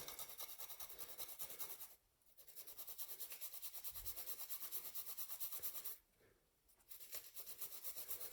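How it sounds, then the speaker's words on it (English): Frozen chilies grated, a steady dry rasping that runs in long continuous passes, pausing briefly twice, close and quiet with no talk. "These are frozen, and then you can, without having to chop, you can just grate them"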